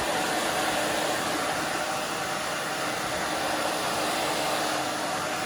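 A hair dryer blows steadily while drying the back of a short spiky pixie cut, a loud continuous rushing whoosh held close and unchanging throughout, with no talk.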